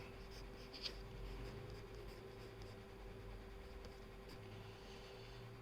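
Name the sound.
pencil sketching on paper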